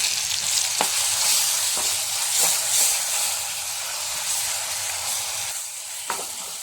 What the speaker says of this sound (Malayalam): കടുകെല്ലാം പൊട്ടി കഴിയുമ്പോൾ നമുക്ക് അതിലേക്ക് ചതച്ച് വെച്ച കൂട്ട് ചേർത്ത് കൊടുക്കാം.